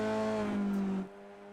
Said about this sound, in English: Let's see if we can get some engine sound here.